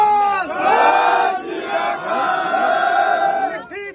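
A large crowd roars the Sikh jaikara response "Sat Sri Akal" in unison, a loud sustained shout that swells and falls, followed by a brief second cry at the end.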